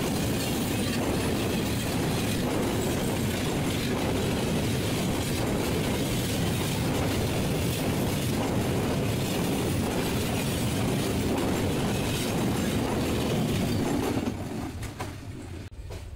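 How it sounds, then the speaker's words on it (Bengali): Paharika Express, intercity train number 720, rolls past loudly and close with a steady rumble and clatter of wheels on rails for most of the stretch, then drops off abruptly near the end. "চলে যাচ্ছে ট্রেন নং 720 আন্তনগর পাহাড়িকা"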